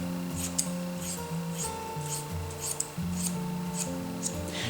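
Scissors trim hair on top of the head during a men's haircut, producing a series of quick, crisp snips at a steady rhythm, close by over a low background hum.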